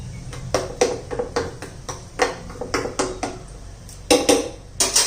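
Tomato chutney being stirred in a pan, a series of sharp spoon-on-metal clinks and scrapes in an uneven rhythm, close and fairly loud, with no talking.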